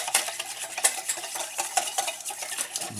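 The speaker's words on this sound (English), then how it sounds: "I'm just going to whisk that and whisk it till it mixes" A whisk beats a cornstarch slurry of cold water quickly in a bowl, giving a close, loud, rapid rhythmic clatter of wire against the sides with no talking.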